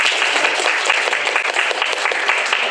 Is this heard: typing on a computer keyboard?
no